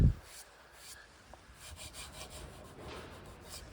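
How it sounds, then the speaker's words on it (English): A hand rubs polish into the paintwork of a blue MK2 Golf GTI 16v, a soft close scrubbing in short repeated strokes after a brief thump at the start. "You do have to give it a good rub, otherwise it just kind of, you can just kind of see smears of it on the surface"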